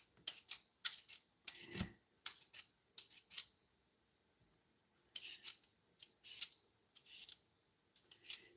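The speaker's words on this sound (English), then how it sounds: "I knew I'd get tired of peeling these sweet potatoes" Sweet potatoes are peeled by hand in a kitchen, with quick, quiet scraping strokes coming in irregular clusters and a short pause midway, close by and with no talking.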